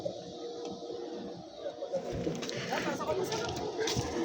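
Pigeons cooing softly inside a small loft, low murmuring calls close by with people talking over them and some rustling movement.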